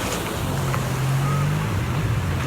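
Ocean waves at Oarai Beach in Japan, a continuous loud rushing wash with wind noise and a low rumble underneath, no voices over it.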